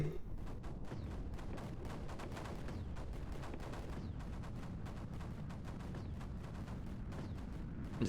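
Mortar fire in Creeper World 4, a steady, fairly faint stream of rapid thumping shots crackling together over a low rumble.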